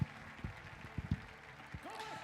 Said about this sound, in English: Don't stop that applause.